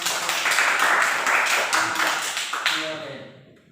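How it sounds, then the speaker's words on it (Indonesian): A classroom of students claps together in a burst of rhythmic, fairly close hand claps that fade out at the end, with voices underneath. "Ya, tepuk tangan."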